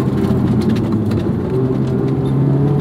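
Honda S2000 AP2 sports car engine revving hard toward its 8,000 RPM redline, a loud, steady, dense drone with rising harmonic layers and continuous road roar, heard from inside the car.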